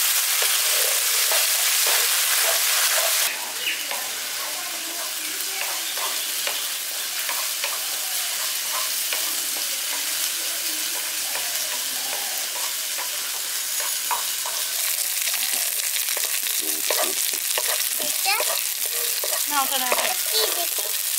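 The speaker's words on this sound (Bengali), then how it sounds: "হালকা একটু ভেজে নিচ্ছি যাতে আদার কাঁচা গন্ধটা চলে যায়।" A paste of ginger, green chili and cumin frying in a pan for pumpkin chhokka, a constant close sizzle with intermittent scraping and stirring, louder and sharper toward the end.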